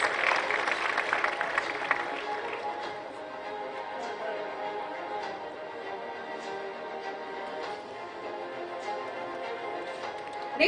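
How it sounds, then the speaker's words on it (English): An audience at an award ceremony for an electronics expo applauds. The clapping is moderately quiet and steady, strongest at the start and then settling into a sustained patter for about ten seconds. "A loud round of applause, ladies and gentlemen."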